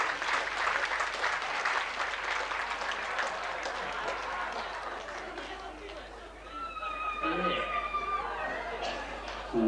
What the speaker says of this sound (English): Now, I believe that deserves a big round of applause.